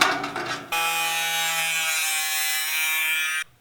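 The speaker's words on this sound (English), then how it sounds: "use the angle grinder to cut that" An angle grinder cuts through a piece of fascia trim on a workshop build, a loud, continuous high whine lasting about three seconds after a short bit of handling noise, then stopping abruptly.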